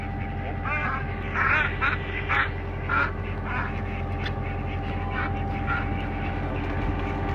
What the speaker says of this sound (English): Oh, the ducks are going ham!